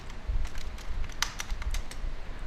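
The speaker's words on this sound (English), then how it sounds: "So I write the password" Brisk password typing on a computer keyboard, a quick irregular run of crisp key clicks, close and fairly loud, with no speech over it.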